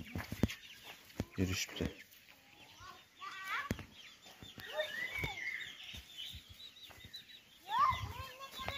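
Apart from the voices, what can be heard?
rooster's chicks clucking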